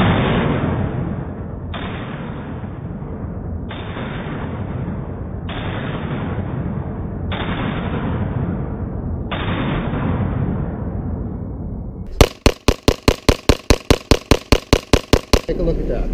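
Pistol shots ring out at a range: six evenly spaced booming reports, then a rapid string of about a dozen sharp cracks fired in quick succession, loud and close.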